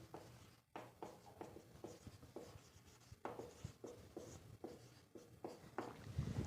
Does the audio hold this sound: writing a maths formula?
yes